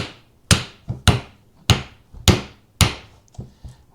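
A hammer strikes parts of a 1993 Kawasaki KZ1000P motorcycle during a no-start repair, landing about seven sharp, close metallic whacks at an uneven pace, with lighter taps between the heavy blows.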